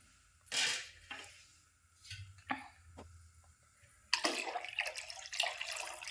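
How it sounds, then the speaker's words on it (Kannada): Water is poured into a large pot of sambar in a home kitchen, heard as short splashy bursts near the start and a louder, sustained pour in the last couple of seconds, with a few quiet clinks between. "ಅದಕ್ಕೆ ಇನ್ನೂ ಒಂದು ಸ್ವಲ್ಪ ನೀರು ಹಾಕೋತೀನಿ ರೀ"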